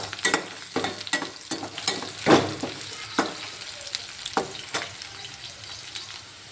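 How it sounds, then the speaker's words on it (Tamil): Crushed garlic sizzles loudly in a pan for sambar, with a busy crackle and a string of quick stirring scrapes, one strong burst near the middle. "நல்லா ஃப்ரை ஆகிடுச்சு"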